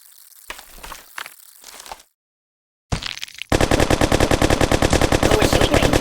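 Rapid machine gun fire in the Kick The Buddy mobile game: after some short clattering hits and a brief silence, a loud, fast, evenly spaced stream of shots runs to the end.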